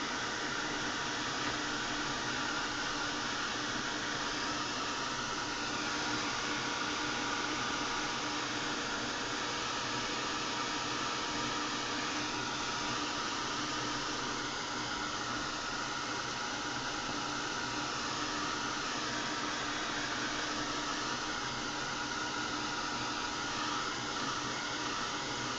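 A hair dryer blows with a steady, loud whooshing hiss that runs unbroken from start to end as blue paint on a mixed media canvas is dried.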